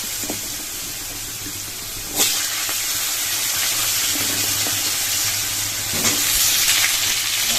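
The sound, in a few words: pumpkin pieces frying in oil in a pan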